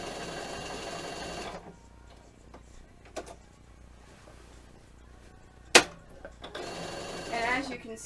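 A sewing machine stitching letters onto a GameCube center logo runs in fast, buzzing bursts at the start and end, with a quieter gap between them broken by a sharp click.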